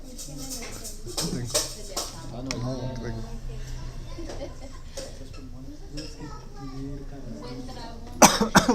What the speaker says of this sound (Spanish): No, tengo una tos todos estos días.